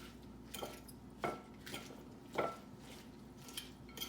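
Mandarin orange salad tossed in a bowl with salad tongs, giving faint, quiet clinks and soft clatters at irregular intervals against a low background.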